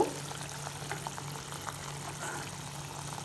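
A little curry broth, from a flour-thickened curry, is ladled and poured in a home kitchen, giving soft liquid splashes and trickles over a steady low hum, with no talking.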